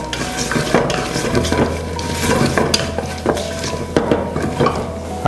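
Cashew nuts and raisins frying in a pan, loud crackling sizzle broken by repeated stirring clinks and scrapes of a spoon against the pan, with no talking.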